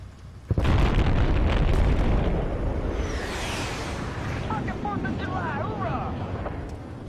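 JDAM airstrike explosions in Battlefield Bad Company 2 hit a tunnel. A sudden loud boom is followed by a heavy rolling rumble and crackling debris with whistling, fading tails, alone without speech.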